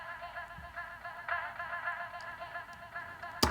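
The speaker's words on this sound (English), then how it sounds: "So say I have this ambient Vox track right here," An ambient vocal track plays back in Studio One, a quiet sustained layered voice texture with soft swelling tones and a brief louder click at the very end.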